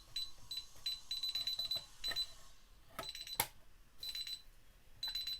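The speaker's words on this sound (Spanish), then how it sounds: "Voy a conectar la alarma." An alarm system being armed during installation of a magnetic door contact gives a series of short, repeated high electronic beeps in quick bursts, with a few clicks between them in a quiet room.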